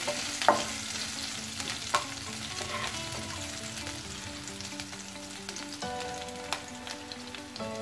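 Chopped green chillies fry in a pan for a fasting sabudana khichdi with fried potatoes, giving a loud, steady sizzle with occasional sharp clinks of stirring, with no voices.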